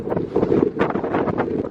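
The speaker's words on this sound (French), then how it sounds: "On prend un peu le vent de nord-ouest là." Northwest wind buffets the microphone high on a mountain near the summit, a loud rumbling gusty roar that swells and eases in uneven bursts.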